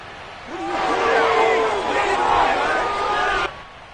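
Stadium crowd in Madden NFL 22 swelling into a loud, sustained roar of cheering voices for about three seconds before cutting off abruptly, with babble and shouts layered through it.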